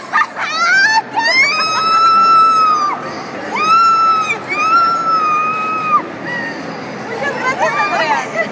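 An audience lets out a final loud, sustained shout together, several long held screams rising and falling over a few seconds amid crowd noise, then fading into scattered voices.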